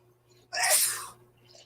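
A single sharp sneeze bursts out close by, a quick breathy explosion that fades within about half a second over a quiet room with faint background hum.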